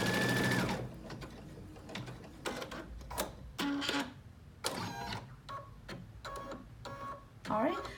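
An embroidery machine stitches several layered fabric pieces, including Riley Blake confetti cottons, for a tree frog zipper bag, running in uneven mechanical bursts and clatters nearby, with short pauses between runs.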